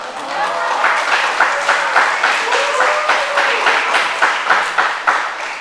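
Church congregation applauding during a Wednesday service in Daegu, steady rhythmic clapping from a sizeable audience lasting several seconds.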